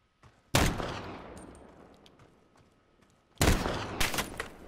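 Desert Eagle .50 pistol gunfire in Call of Duty: Modern Warfare gunfight gameplay, with a loud, sharp shot that decays slowly, then a quieter stretch and a second burst of heavy shots near the end.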